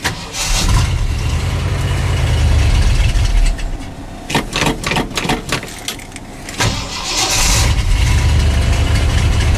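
A car engine cold-starts in sub-zero weather after the gas pedal is pumped, with a loud low rumble, a stretch of choppy bursts as it catches, then a steady close idle.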